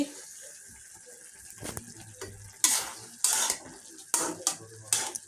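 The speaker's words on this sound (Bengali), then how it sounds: "আর এখানে আমি ভাজি করতেছি, আলু ভাজি করতেছি" Potatoes and carrots fry in a pan with a soft sizzle, interrupted by several sharp bursts of stirring and scraping against the pan.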